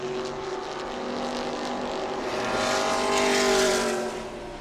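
Modified race cars roar continuously in close battle on the New Smyrna oval during an E-Mod race, engine tones rising and falling as they slide and swap positions, loud and sustained without talk.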